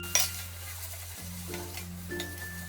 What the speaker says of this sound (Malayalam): ഇതെല്ലാം കൂട്ടിയിട്ടൊന്ന് മിക്സ് ചെയ്ത ശേഷം ഈ വേവിച്ച് വെച്ചിരിക്കുന്ന സ്പഗതിയും കൂടി ഇട്ട് മിക്സ് ചെയ്തെടുക്കാം